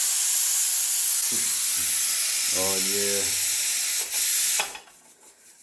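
Pressure cooker with dal on a stove, hissing steam in a steady loud stream through most of the clip, cutting off near the end, with brief speech partway through.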